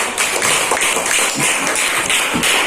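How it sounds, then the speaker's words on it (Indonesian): A classroom of primary school pupils claps for a group of classmates, loud, steady and close, with dense hands and no talk over it. "tepuk tangan untuk kelompok 4"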